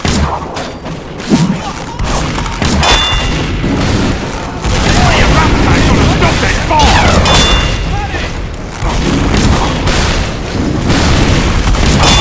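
Bomb blast in Team Fortress 2 during an online multiplayer game night, a loud booming rumble amid chaotic battle noise and overlapping voices.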